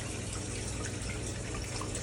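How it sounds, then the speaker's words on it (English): Gray water drains from a portable laundry washer into a shower, a steady continuous rushing and splashing flow with no pauses. "the water is currently emptying out"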